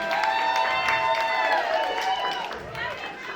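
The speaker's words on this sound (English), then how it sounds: "Ladies and gentlemen, please clap your hands for Nita one time." An audience at a launch event claps hands, producing a steady, fairly loud wash of clapping and cheering that fades slightly toward the end, with crowd chatter underneath.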